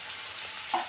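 Eggplant and carrot kootu sautéing in oil, a soft steady sizzle that stays faint throughout, with a brief louder stir near the end.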